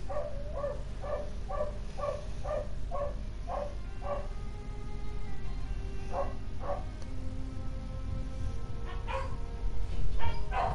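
An excited dog barks in quick repeated bursts, a regular run of yips, then a pause and a few more scattered barks, fairly close over a low background rumble, no talking.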